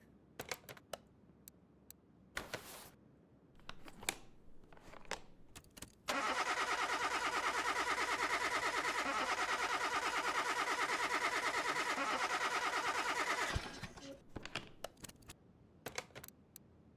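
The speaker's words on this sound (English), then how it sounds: "Car is loud. Oh, the exhaust." A loud, rough car exhaust roar in the video game Car Mechanic Simulator 2021 holds steady for several seconds, framed by sharp clicks and taps before and after.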